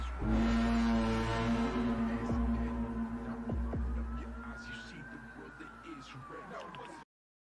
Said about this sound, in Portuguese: isso aqui é um barulho que surgiu no céu parecendo trombetas